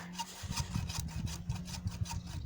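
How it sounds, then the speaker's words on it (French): A hacksaw rasps back and forth through a fruit tree branch in quick, steady strokes, close and moderately loud, with no one talking. "alors je fais ça à la scie à métaux"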